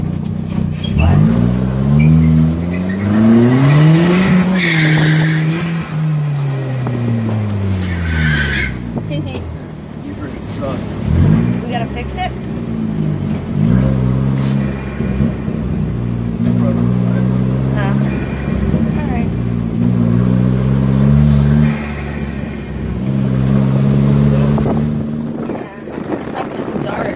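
A car speeding, accelerating and skidding in the dark: engine pitch rises and falls in repeated revving sweeps over nearly half a minute, loud and close, with people talking over it.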